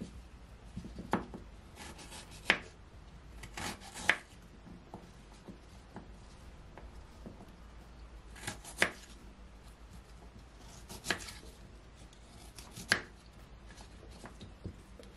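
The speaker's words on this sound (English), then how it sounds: "So now I'm going to cut my ginger." A knife chops fresh unpeeled ginger on a board, with irregular sharp taps and short clusters of cuts that are fairly close and quiet, and no talking.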